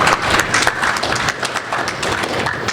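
Audience at a technical conference applauding, a dense, steady burst of many hands clapping together, loud and close, with no pause across the short stretch.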